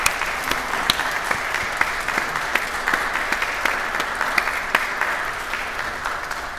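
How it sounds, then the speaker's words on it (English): Sustained applause from a modest audience, steady clapping with a few sharper claps standing out, continuing throughout without speech. "How about a round of applause?"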